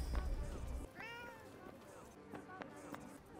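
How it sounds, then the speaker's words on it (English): Cat meowing in the video game Forspoken, a couple of short close meows over game ambience, with faint speech-like sounds in the background. "you can pet the cat in Forspoken"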